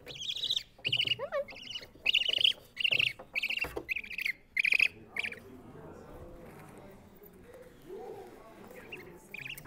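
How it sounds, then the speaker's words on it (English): Captive great horned owl named Cash at a raptor program, giving a run of rough, raspy squawks in quick bursts up close, then quieter rustling and faint background sounds. "Great horned owl."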